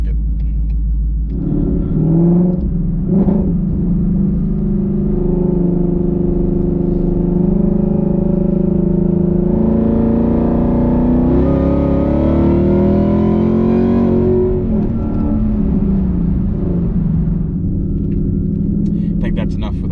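A VMP Odin supercharged Ford Mustang rumbles, then accelerates hard with a rising engine note that climbs for several seconds before easing off, heard from inside the car; a voice talks over it.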